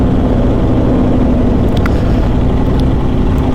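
A supercharged Chevy Camaro ZL1 engine drones loud and close in a steady, low rumble that stays constant, with a few faint clicks in the background.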